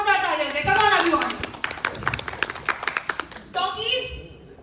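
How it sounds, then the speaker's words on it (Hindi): Applause rises from an audience at a launch event for the Talkiez OTT app, brief sharp claps breaking through continuous speech and a host's voice for several seconds before talk resumes. "एक बार जोरदार तालियां हो जाए।"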